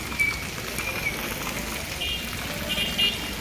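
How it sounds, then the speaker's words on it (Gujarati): Rain falls steadily on surfaces at the Junagadh agricultural market yard, making an even, close patter with a few faint background sounds mixed in. "વરસાદ ચાલુ છે અમારે।"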